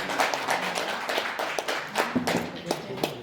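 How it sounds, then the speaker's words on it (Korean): Scattered, uneven clapping from a modest crowd at a literary award ceremony, with individual sharp claps standing out in an irregular patter rather than a full, dense ovation. "큰 박수로 축하합니다."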